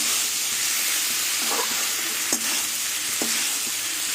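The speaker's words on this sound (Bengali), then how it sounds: "সব মশলা দিয়ে কষাতে কষাতে তেল ছেড়ে দিয়েছে" Snake gourd sautéing with spices in oil until the oil separates, a loud, constant close sizzle with a few sharp clicks and knocks of a stirring spoon.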